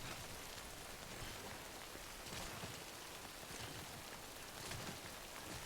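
Steady rain falling in the video game Death Stranding, a dense, even hiss of drops on surfaces that continues throughout at moderate volume with no voices.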